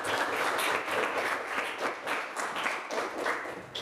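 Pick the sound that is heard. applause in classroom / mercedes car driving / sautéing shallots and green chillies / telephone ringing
applause in classroom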